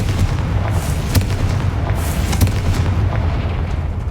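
Confringo explosion spell in the video game Hogwarts Legacy, a loud sustained rumbling boom with a few sharper cracks inside it and no talk.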